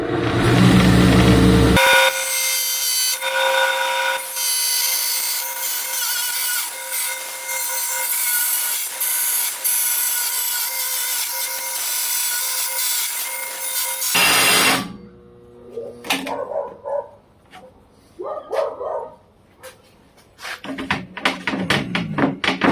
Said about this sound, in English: It's been a long time since I cut aluminum